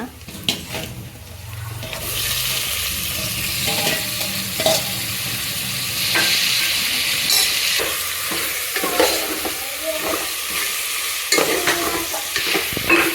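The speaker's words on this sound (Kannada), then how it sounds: "ಎರಡು ನಿಮಿಷ ಫ್ರೈ ಮಾಡ್ಕೊಂಡಿದ್ದೀನಿ" Mutton with a spoonful of ginger-garlic paste fries in a pan for biryani, a steady broad sizzle running throughout with repeated clinks and scrapes of a spoon stirring the meat.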